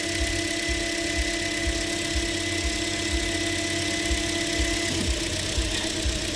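A 2013 Toyota Corolla engine idles with an ignition coil pulled, causing a misfire: a steady, close mechanical hum with a faint rough unevenness that wavers briefly near the end. No one speaks.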